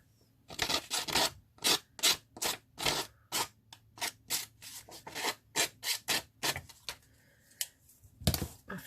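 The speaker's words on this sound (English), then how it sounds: "rough it up with the scissors for speed" Scissors roughing up the paper of an altered book, a run of quick rasping scrapes in an uneven rhythm, close and crisp with no talking.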